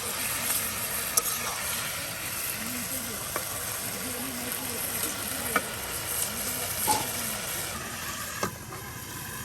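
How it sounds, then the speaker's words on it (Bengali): Potatoes and flat beans being stir-fried with spices in an outdoor pot give a steady, close frying sizzle with scraping stirs and occasional clicks, while a voice talks faintly beneath. "আলু এবং সিম আপনার মশলার সাথে মিক্স করে নেওয়া হচ্ছে আপনার কষানো হচ্ছে সবজিগুলো মশলার সাথে"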